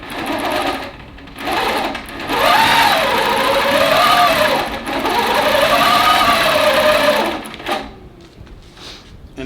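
A long arm quilting machine stitches a June Tailor pocket shopper tote, its motor whirring loud and steady in two long runs with brief stops and a falling pitch as it slows between passes.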